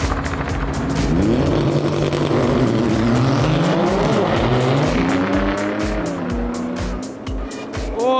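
Race cars roar through a drag race, a Toyota with a roll cage chasing down and overtaking a Porsche; loud engine notes rise and fall with gear changes over about eight seconds, with shouted commentary running beneath.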